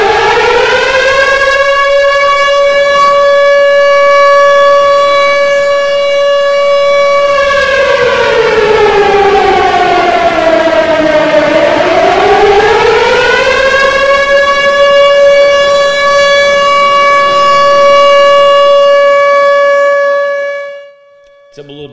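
An air raid siren used in Ukraine during wartime wails loud and steady for about twenty seconds, its pitch sliding down and rising back up in the middle before it holds again and cuts off at the end.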